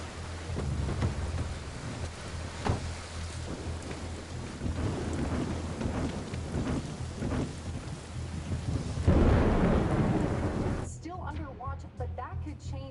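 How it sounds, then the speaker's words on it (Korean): Rain falls steadily with rumbling thunder, a dense downpour swelling louder near the end before cutting to quieter sound, with voices heard over it. "비가 내립니다."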